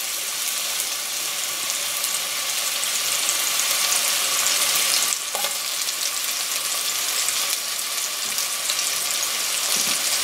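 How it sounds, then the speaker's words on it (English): Diced medium onion frying in about three tablespoons of lard for an ancient Mexican mole sauce, a steady close sizzle with a brief stir or clatter midway and no talking. "in goes about three tablespoons of lard. I have a diced medium-sized onion."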